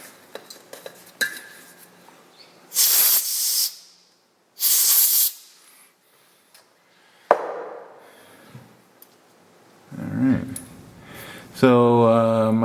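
Short sharp hissing sprays blast into a tapped hole in cast iron, two bursts close together, then scattered metallic clinks and handling noises in a quiet shop.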